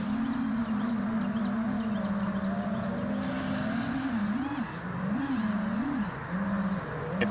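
FPV racing drone motors whine near and loud in a steady high hum, wobbling and warbling in pitch as the pitch stick is shaken rapidly up and down.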